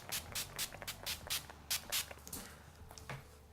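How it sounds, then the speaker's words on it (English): Urban Decay All Nighter setting spray misted onto a face in a run of quick, soft pumps, close and fairly quiet, with a few fainter spritzes trailing off. "I'm going to use this right here, the All Nighter spray from Urban Decay."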